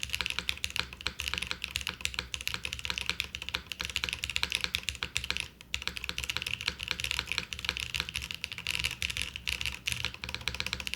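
Typing on a Monokei x TGR Tomo mechanical keyboard, a close, dense and continuous run of clacky keystrokes with no voices.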